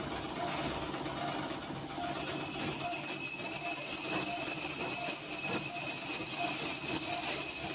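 A sewing machine doing clothing alteration work at home hums quietly at first, then speeds into a loud, steady mechanical whirr that carries on without a break.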